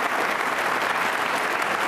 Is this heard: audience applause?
yes